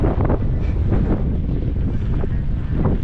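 Wind roars steadily against the microphone while riding a Brompton folding bike on a long cycling tour around Iceland, loud and close throughout, with no talk.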